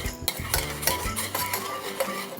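Oatmeal-style breakfast mixture with goat whey protein powder being stirred in a pot, giving busy, close scraping and clinking of a utensil against the pan in quick repeated strokes with no talking.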